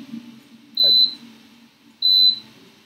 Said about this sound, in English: Why would you beep like this?